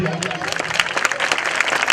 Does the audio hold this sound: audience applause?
yes